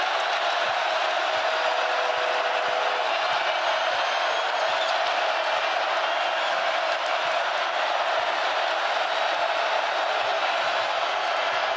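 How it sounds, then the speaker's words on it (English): Basketball crowd at BYU's Marriott Center cheering during a Texas Tech game, a steady loud roar of many voices that holds from start to finish. "here comes the Marriott Center crowd"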